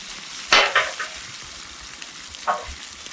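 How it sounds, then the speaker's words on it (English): Veggies and meat for a Philly cheesesteak sizzling on a hot griddle while being mixed, with a few sharp scraping stirs over a low, steady frying hiss. "what I like to do is mix the veggies and the meat together and get all those juices from the meat and veggies mixed together"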